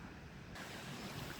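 Wind gusts across the open grounds of Père-Lachaise cemetery in Paris, a broad steady rush that swells suddenly partway through, with no voices.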